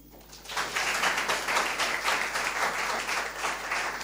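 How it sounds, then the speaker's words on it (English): Applause from a school audience at an inter-secondary schools debating competition starts after a brief pause and then holds as steady, moderately loud clapping from many hands. "Mrs. Marsh. Clap for Mrs."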